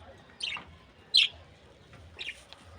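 Caged pet birds chirp three times, each call a short, bright tweet with pauses between, heard fairly close over a quiet, low background murmur.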